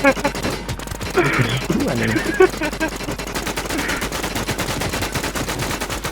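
Gunfire in the shooter game Warz comes as rapid bursts of shots, sharp and close, over excited voices talking throughout.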